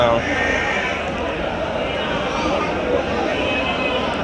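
Sheep at a crowded Saturday-morning livestock market, their bleats blending into a dense, continuous crowd din with people talking throughout, loud and close.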